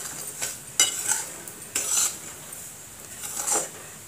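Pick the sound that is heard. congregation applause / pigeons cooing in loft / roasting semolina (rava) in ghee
roasting semolina (rava) in ghee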